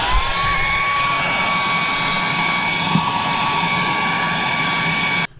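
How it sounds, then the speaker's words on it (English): A hair dryer defrosting a fridge blows loudly and steadily at close range with a high whine, then cuts off abruptly near the end. "So I'm going to defrost it with my hairdryer."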